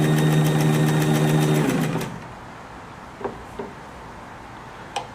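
A Kenmore 59 sewing machine runs at a steady hum with a fast rhythmic stitching chatter for about two seconds, then stops, leaving a quiet room with a few soft clicks and knocks.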